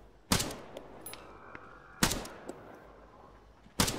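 Three sharp, loud gunshots ring out at even intervals of a little under two seconds in the video game Arma 3, each with a short echoing tail, and faint smaller clicks fall between them.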